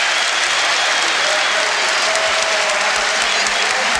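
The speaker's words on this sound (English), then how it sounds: "he gets applause from his manager on the bench and from the Tottenham fans as well" Tottenham fans in a stadium crowd applauding a goal, a loud, dense, continuous wash of clapping and crowd roar that holds steady throughout.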